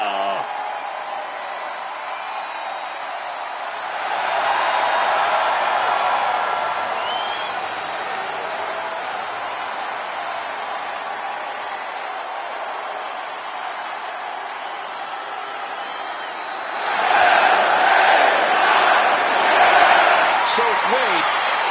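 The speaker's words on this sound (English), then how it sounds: "Oh yeah, this crowd, they just love them some LA Knight" A wrestling arena crowd in the WWE 2K26 video game roars for LA Knight's entrance, a broad steady cheer that swells twice, loudest in the final seconds.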